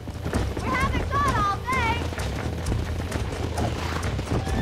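Horse hooves clip-clop in the Red Dead Redemption video game, a busy galloping patter mixed with game music and whistling tones, while someone talks over it.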